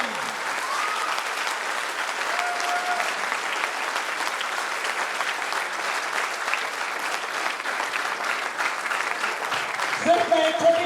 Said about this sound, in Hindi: हमारे नए मेहमानों के लिए अब तक की सबसे बड़ी तालियां आपको बजा के उनका सम्मान करिए